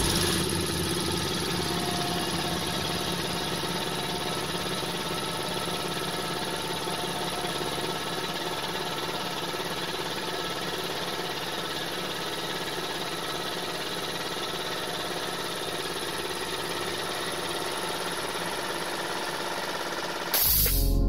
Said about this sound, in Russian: Компрессор работает достаточно тихо, работает устойчиво.